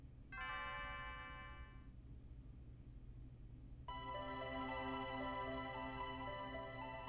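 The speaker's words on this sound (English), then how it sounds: "I forgot how beautiful Lean's bell sounds." In the Chrono Trigger video game, a bright chiming bell rings first as a short tone cluster and then as a fuller, sustained ring, over a steady low background hum.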